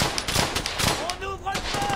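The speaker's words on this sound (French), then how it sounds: "On ouvre le feu!" Rapid bursts of machine gun fire in the WWII shooter Brothers in Arms: Hell's Highway, loud and close for the first second, then giving way to tonal shouting and voices over the battle.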